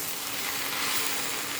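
Pasta seasoned with Maggi masala frying and being stirred in a pan over low flame, giving a steady close sizzle with no pauses, alone without talk.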